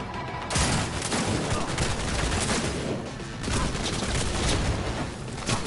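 Rapid bursts of gunfire in the video game Cyberpunk 2077, dense and loud, coming in sustained volleys with brief dips between them and no clear talk over the shooting.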